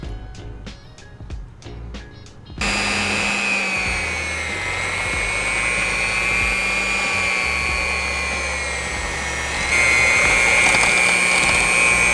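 Electric mixer creaming butter and packed light brown sugar for chocolate cookies, starting after a few quick clicks with a steady whirring drone and then stepping up louder near the end, close and without talk.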